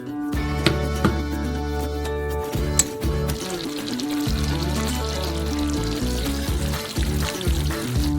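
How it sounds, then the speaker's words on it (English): Steady bubbling and sizzling from sugar syrup cooking into caramel in a saucepan on the stove, with a few clinks and a low hum throughout. "We cook the caramel for 10 minutes until it reaches 137 degrees."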